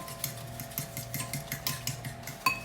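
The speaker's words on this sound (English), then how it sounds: "So I'm going to stir this in." Banana, applesauce, honey and vanilla are stirred into zucchini muffin batter, making a quiet, regular series of spoon taps and clicks against the bowl in a steady rhythm.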